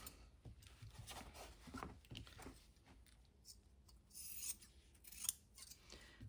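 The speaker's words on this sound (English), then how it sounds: "Let's do these two while I'm cutting." Scissors snipping and rasping through thin cereal-box cardboard for a junk journal, a run of short crisp cuts and scraping strokes up close, with a few sharper snips near the end and no talking.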